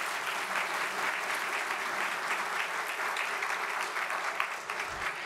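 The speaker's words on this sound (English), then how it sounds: "please join me in a round of applause for the South Atlanta High School Jazz Ensemble." A hall full of people applauds the South Atlanta High School Jazz Ensemble at a school valedictorian breakfast, a dense, steady wash of clapping that holds evenly and somewhat distantly from start to finish.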